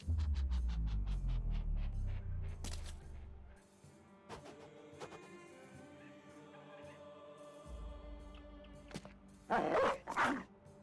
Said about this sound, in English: Earl, the bestest war dog we've ever had.